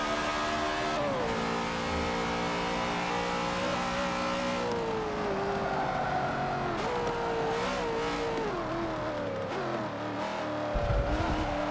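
A race car engine in Forza Motorsport 7 at Le Mans drones loudly and close, pitch rising and falling through gear changes and shifts, with a brief rumble near the end and no talking.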